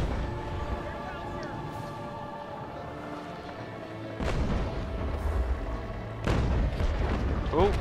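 Ship cannons firing in the naval combat game Naval Action, heard as deep rumbling booms, with two heavy blasts a couple of seconds apart rising over a continuous low roar of sea and wind.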